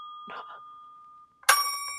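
A small metal desk bell rings once with a bright, sustained ding that rings out clearly, following a fainter tone and some soft handling noise.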